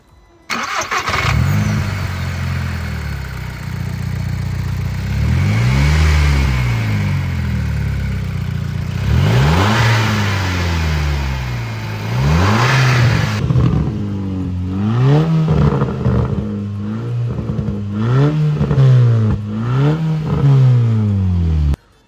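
A Volkswagen Golf Mk5 engine fitted with a sport air filter idles, then revs repeatedly in rising and falling sweeps, loud and close, with no talking.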